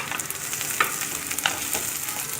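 Murungakkai (drumstick) pieces fry with sautéed onions and curry leaves in oil for a drumstick poriyal, giving a steady close sizzle with a couple of soft stirring scrapes and no talking.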